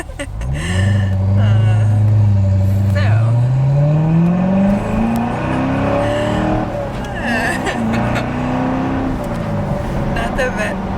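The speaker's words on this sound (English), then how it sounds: "Not the best vlogging car because it's gonna be loud and it's a manual." A loud manual sports car engine revs up and climbs in pitch, droning steadily as it accelerates, with a voice speaking over the engine noise.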